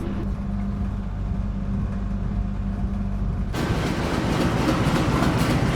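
Rumble of the Gajah Wong passenger train hauled by an old locomotive running at speed, a steady low drone that swells abruptly into a louder, brighter roar partway through, with no voices.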